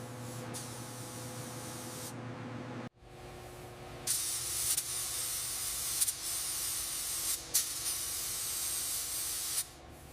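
A spray gun lays a primer pass on the frame of a 1926 Mack AB truck: a soft, steady hiss, then a short pause and a series of sustained spray bursts with brief breaks between them.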